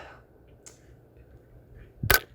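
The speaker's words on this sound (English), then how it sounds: "if you're shooting with the conversion bolt" A single sharp shot from a .22 LR rifle fitted with a CMMG conversion bolt, a short crack rising out of quiet outdoor background near the end.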